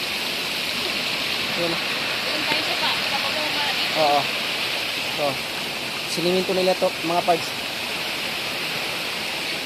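Stream water rushes steadily at a countryside bathing spot, a constant broadband hiss under someone speaking in short phrases.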